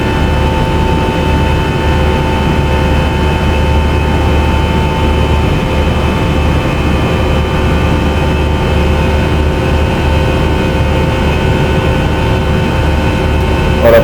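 Simulated Fslabs A320 jet engines at takeoff in the Prepar3d flight simulator give a loud, unbroken roar with a low rumble and steady high whine, alone throughout.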